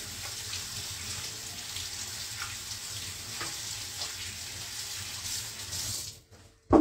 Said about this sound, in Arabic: غادي نغسل يدي